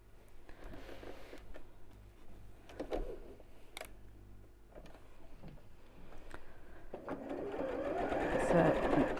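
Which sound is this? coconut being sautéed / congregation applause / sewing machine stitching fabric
sewing machine stitching fabric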